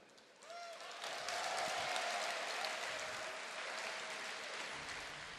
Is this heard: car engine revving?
no